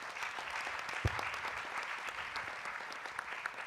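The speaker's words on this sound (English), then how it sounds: "To our media partners, please let's give them a round of applause." Audience applause at a Ghana College of Physicians and Surgeons leadership symposium, a dense, steady burst of clapping from a crowd with one sharp thump near the start.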